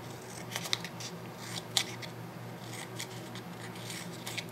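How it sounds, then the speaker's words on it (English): Scissors snip V-shaped notches along the folded edge of a cardboard paper towel roll, a few short crisp cuts with quiet rustling between them, close and fairly faint. "So just cut those out like that."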